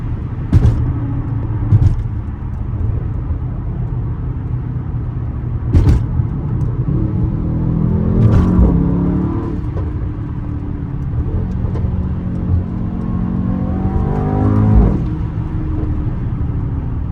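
A 2020 Mercedes-AMG GT 63 S cruises and takes turns, its engine giving a steady low rumble with a few rising revs and brief bumps, heard close from inside without talk.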